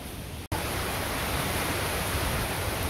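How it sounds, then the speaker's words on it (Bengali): Rain falling in a village, a steady broadband wash of noise after a brief cut at the start, constant and fairly close. "বাবা রে বৃষ্টি রে"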